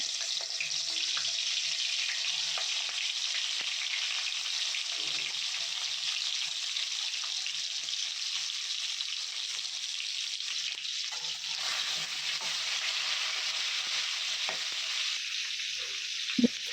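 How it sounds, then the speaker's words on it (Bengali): Whole eggplants fry in hot oil in a home kitchen, a loud, steady crackling sizzle that continues unbroken, with a few faint clinks of a utensil toward the end. "বেগুনগুলো ভাজি করে নেব তেলে"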